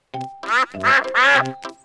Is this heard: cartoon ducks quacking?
yes